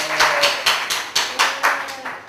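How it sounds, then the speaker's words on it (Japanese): Steady rhythmic hand clapping from a small studio audience at a game talk-show stream in a café, sharp claps repeating evenly and fairly close with no voices. "拍手があったかい"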